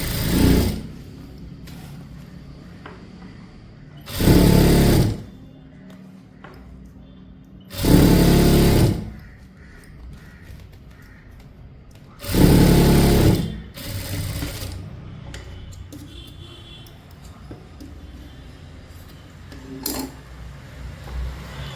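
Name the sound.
sewing machine stitching churidar pant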